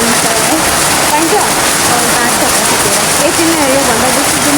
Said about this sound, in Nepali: के असिना झर्दैछ